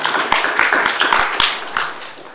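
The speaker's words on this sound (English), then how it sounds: "I'm going to ask you folks not to keep clapping after every presentation" Audience applause at a Fort Erie council-in-committee meeting after a resident's presentation, a brief burst of sharp scattered hand claps from a modest crowd in a meeting room, fairly close and tapering off.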